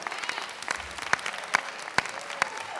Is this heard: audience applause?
yes